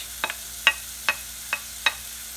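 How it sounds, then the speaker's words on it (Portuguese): Vegetables sautéing in a pan on a home stove make five short, evenly spaced crackles and stirring scrapes over a quiet background, with no talk. "agora eu vou colocar toda a verdura pra dar uma murchadinha, né? Pra refogar antes de colocar o arroz"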